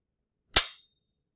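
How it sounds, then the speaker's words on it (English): A spring-driven projectile launcher in a physics demonstration fires once, a single sharp, loud snap with a quick decaying tail and nothing else around it. "it pulls this piston in really quick, allowing this ball to drop straight down, and it kicks this ball out"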